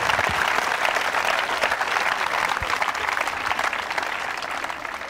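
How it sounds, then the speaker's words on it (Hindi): An audience at a quiz show at a government women's engineering college in Ajmer gives a steady, even round of applause from many hands, sustained throughout at a constant level. "तालियां बजा सकते हैं आप उनके लिए।"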